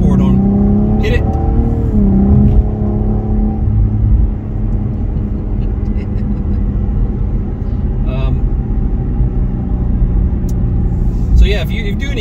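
A Cadillac ATS-V on Michelin Pilot Sport tires accelerates hard, its engine note climbing through steady, loud revs with a gear change partway through, heard from inside the car under a voice.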